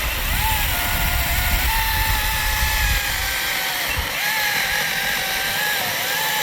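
GTM 3 kW cordless chain saw cutting a raw ash log, a loud, steady high whine whose pitch dips and recovers as it bites into the wood, close up.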